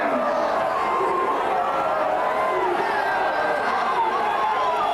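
Rugby league crowd at a Keighley versus Batley match building into a steady, dense roar of raised voices and chatter at kickoff, continuous and fairly distant.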